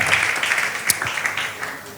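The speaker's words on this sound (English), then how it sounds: "another round of applause for her," Brief applause from an audience at a conference session, a dense wash of clapping with a few sharper claps standing out.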